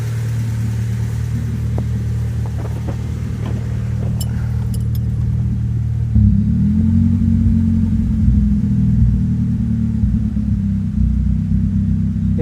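A 2000 Honda Civic with an idle problem, its engine running steadily with a low rumble, then rising in pitch and revving up about halfway through, accompanied by faint metallic jingles like keys.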